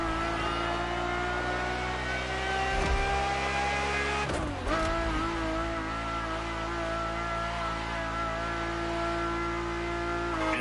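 A racing car's engine in The Crew Motorfest, heard from inside the cabin as a steady, loud harmonic drone with one brief dip and recovery midway.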